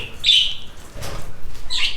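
Pet birds in an indoor bird room give two bright, close chirps, one near the start and one near the end, with a brief rustle of wings between them; no one speaks.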